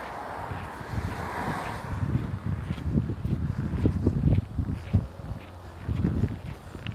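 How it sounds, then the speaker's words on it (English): Gusty outdoor wind buffets the microphone in steady low rumbling surges, with no voices, only faint shuffling steps. "Bring on the wind."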